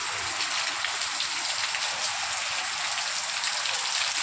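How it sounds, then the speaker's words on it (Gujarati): Steady, close monsoon rain pattering on a garden, a constant dense hiss with no pauses or voices. "આપ જોઈ શકો છો કેવો સરસ વરસાદ આવે છે."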